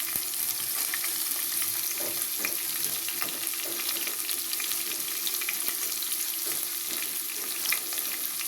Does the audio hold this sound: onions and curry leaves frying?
yes